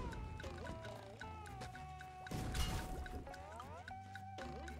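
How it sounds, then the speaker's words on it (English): In the SpongeBob Battle for Bikini Bottom Rehydrated video game, Gary the snail gives repeated short cat-like meows in a rhythmic series, alongside game music and watery dripping effects. "What's shaking, Gary? Meow?"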